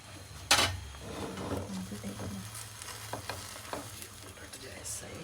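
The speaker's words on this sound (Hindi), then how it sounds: "थोड़ा सा हल्का सा ऑयल ऊपर डालेंगे।" Omelette wrap frying in a pan after a drizzle of oil goes over the top, a soft steady sizzle punctuated by a sharp hiss and a few utensil scrapes and taps.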